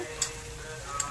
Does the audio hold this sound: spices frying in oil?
yes